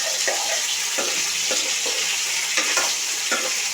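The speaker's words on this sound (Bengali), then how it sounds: "কালো জিরা আর মেথি ফোড়ন দিয়ে তেলের মধ্যে কেটে রাখা সবজি দিয়ে দিলাম" Chopped vegetables hitting hot oil tempered with nigella and fenugreek seeds, giving a steady loud sizzle with bursts of stirring and scraping against the pan, no voices.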